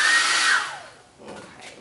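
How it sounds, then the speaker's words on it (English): A blow dryer whirs loudly at close range, then its airflow tone drops away and fades as it is switched off, leaving faint rustling handling sounds. "You can hear me back here getting my blow dryer set up."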